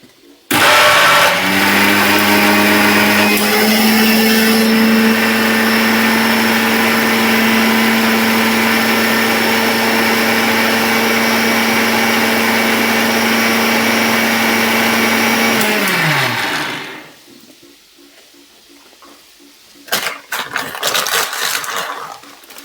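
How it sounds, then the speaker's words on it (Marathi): An electric mixer grinder grinds half a kilo of homemade black masala at home, giving a loud, steady motor whine for about sixteen seconds before it winds down and stops, followed by faint rustling and a few soft knocks. "तर आता चालू केले मी घरीच मसाला थोडासा बारीक करायचा, 1/2 किलो."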